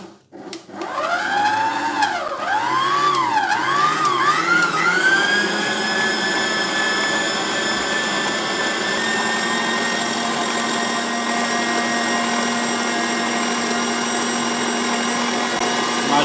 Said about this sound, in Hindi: मशीन में तो मिक्स हो रहा है